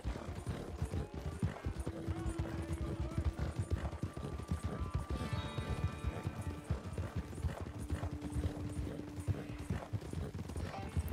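Horses gallop at full race speed in Red Dead Redemption 2, a steady rapid clip-clop of hooves running on without a break, with tonal game sounds layered over it.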